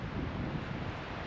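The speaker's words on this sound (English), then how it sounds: "Pretty windy up here right now." Wind gusts buffet the microphone on Etiwanda Peak in the San Gabriel Mountains of Southern California, a steady low rumble with no voices.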